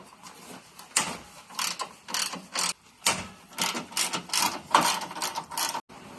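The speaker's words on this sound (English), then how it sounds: "we're going to unbolt this and see if we can take this member out" Ratchet wrench loosening the bolts of a front crossmember on a 2011 Honda CR-Z during engine-removal prep, with rapid clicking bursts repeating in short irregular pulls, close and fairly loud.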